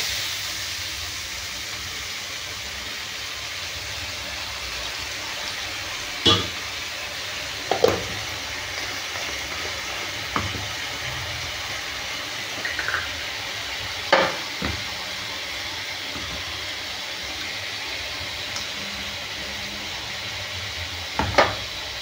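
Onion mixture sautéing in a pan, a soft steady sizzle runs throughout while occasional sharp clinks and scrapes of a spatula against the pan punctuate it at irregular intervals.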